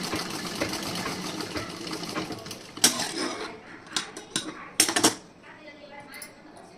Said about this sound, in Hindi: उसके बाद आप सिलाई लगा दीजिए अच्छी